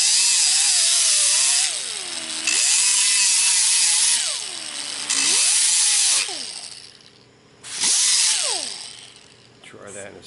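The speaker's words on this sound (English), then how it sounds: "So I'm gonna use the same sander." A power sander grinds down a Dewalt 14 volt to 18 volt battery adapter in repeated bursts, the motor pitch sagging under load with each pass and recovering between, loud and close.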